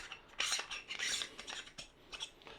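A metal lens hood unscrewing from a TTartisan 21mm f1.2 lens: close, quiet rasping and scraping of threads in short uneven bursts, with no voices.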